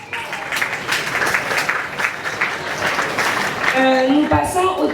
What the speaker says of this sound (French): On applaudit pour le jury.